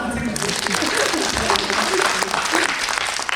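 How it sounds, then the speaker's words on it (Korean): An audience at a Korean film screening Q&A for 소방관 claps in a sustained burst of applause, a dense crackling wash heard while someone talks over it. "여러분 박수 한번 드립니다"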